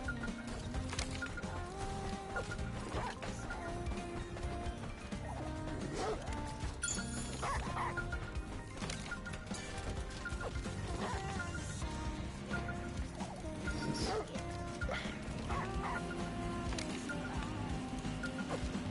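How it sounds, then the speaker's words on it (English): A dog barks repeatedly in the Stellar Blade action game's NIKKE DLC content, its yips and bow-wows half-buried under dense, continuous game music and effects. "I'm moving around the stupid dog."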